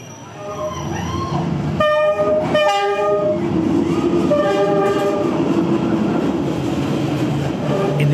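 A train rumbles past close by on Hanoi's Train Street, a narrow rail corridor through the city centre, sounding its horn in several loud blasts over a steady rolling roar of wheels and cars.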